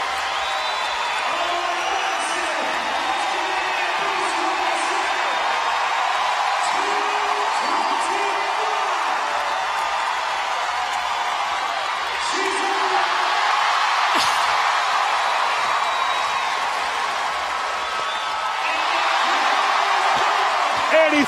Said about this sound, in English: What does Annie love but the crowd cheering for her?